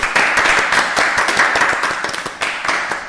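A church congregation breaks into applause after a prayer, a dense burst of clapping that carries on steadily for a few seconds, close and fairly loud with no voices over it.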